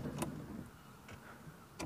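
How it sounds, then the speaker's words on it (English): Windscreen wipers on a 1979 Mitsubishi Colt 1400 GLX, heard from inside the car: a few soft, separate sweeps spaced well apart over a low, steady cabin rumble. "I think I'm going to have to try the wipers now"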